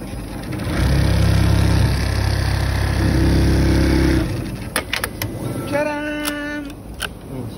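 A sewing machine stitches a back pocket with a loud, steady motor drone lasting a few seconds before it stops, followed by a few clicks and people talking.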